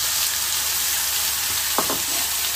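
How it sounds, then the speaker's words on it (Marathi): Ground masala paste frying in hot oil for a drumstick curry, a steady close hiss of sizzling throughout with a brief clink of stirring near the end. "आणि आता हा जो मसाला आहे जो आपण वाटून घेतलाय तो याच्यामध्ये टाकून घ्यायचा।"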